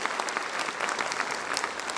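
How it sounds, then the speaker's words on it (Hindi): Audience clapping for teachers at a school annual function, a brisk crowd applause of scattered crisp claps, steady and moderately loud throughout. "तो जोरदार ताली बनती है उन टीचर्स के लिए"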